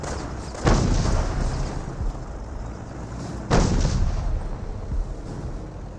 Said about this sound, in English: Rifle squad is being engaged! Panzer Grenadiers are receiving some fire there.